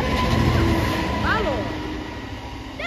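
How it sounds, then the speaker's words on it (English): A Freightliner Class 66 diesel freight locomotive rumbles past on the Trent Valley line at Rabbit Hill, a loud steady roar that gradually eases as people talk excitedly nearby. "Approaching, we have another Freightliner Class 66."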